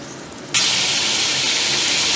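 Mutton pieces hit a hot pan for korma with a sudden loud burst of sizzling, then a steady close hiss that holds without a break.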